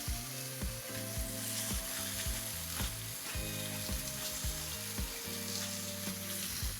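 Chicken searing in olive oil in a pan makes a steady sizzle close by. Tonal harmonic music plays loudly over the frying throughout, and brief scrapes or stirs are mixed in.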